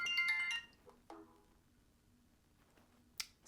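A smartwatch lying off the wrist sounds a bright, loud electronic alert tone for about half a second, followed by quiet clicks and rustles.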